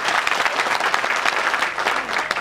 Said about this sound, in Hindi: जोरदार ताली बजा करके इनका स्वागत करिए